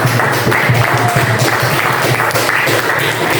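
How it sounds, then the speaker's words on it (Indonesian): Sustained applause from a school class, loud and continuous, with the dense patter of many hands clapping at once. "tepuk tangan untuk kita semua dulu"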